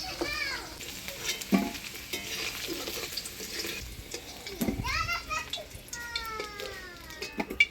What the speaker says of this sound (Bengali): দিদি নাড়াচাড়া করতেছে